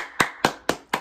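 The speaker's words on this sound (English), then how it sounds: "Clap it up." Four sharp hand claps at an even, steady rhythm, each a crisp close slap with a short decay, with no talk around them.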